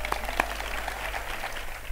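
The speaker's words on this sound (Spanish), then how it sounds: "Un fuerte aplauso para ella" Brief applause rises in a school graduation hall as the director steps onto the stage, a short burst of scattered clapping over a steady low hum.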